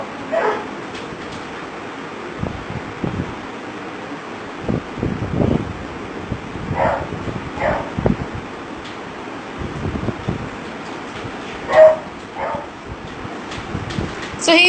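Puppy at a dog creche in Kolkata, India, giving scattered short barks and yips with some whimpering, heard amid wind noise and faint background voices.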